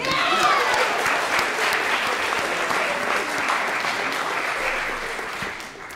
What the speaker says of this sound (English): get another round of applause for Grant,